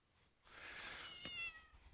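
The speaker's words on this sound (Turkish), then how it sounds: "Bunlar kedilerimiz." A single faint cat meow, breathy and drawn out, heard quietly with nothing else around it.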